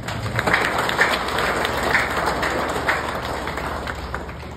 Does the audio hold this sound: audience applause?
yes